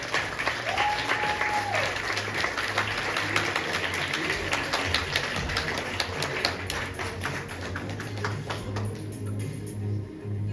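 A hall full of people claps at a school last-bell ceremony for eleventh-graders at School No. 10 in Ukhta, Komi Republic. Sustained applause with crisp individual claps runs throughout over a low electrical hum, with a brief tonal whine near the start.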